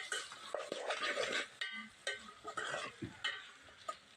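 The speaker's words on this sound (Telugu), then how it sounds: "ఇప్పుడు ఒకసారి ఇలాగా కలబెట్టేసుకోవాలి" Onions frying in a pan for mutton curry are stirred with a spoon, giving close scraping sweeps and clinks of metal over a steady sizzle, with brief pauses between strokes.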